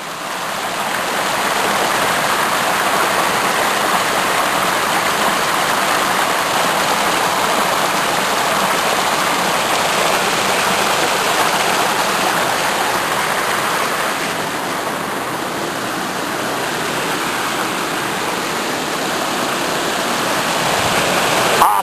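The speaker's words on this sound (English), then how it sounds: "Baby waterfall." A small waterfall of snowmelt pours into a roadside culvert, producing a loud, steady, broadband rush of water that continues without a break, with no talking.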